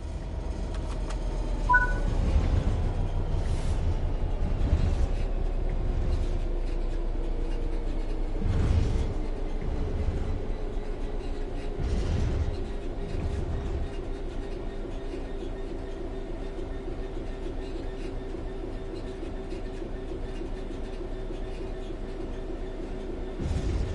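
A train coasting on level ground in the Train Sim World 3 video game gives a steady, close rolling rumble with a slowly falling mechanical whine and a few soft clunks from the rails, with no talking.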